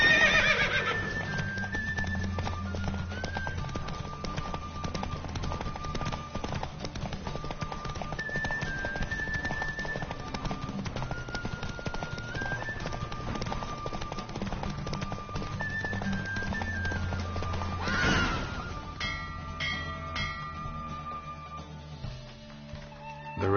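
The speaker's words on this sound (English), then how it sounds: "Don't spare the horse!" A horse gallops in steady, rapid hoofbeats during a race in the video game The Witcher 3 and whinnies loudly near the end, with a faint musical background throughout.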